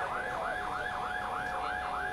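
Ambulance siren wailing in a steady repeating rise-and-fall sweep on a congested street during a national strike blockade in Guatemala, loud and continuous with faint traffic noise beneath.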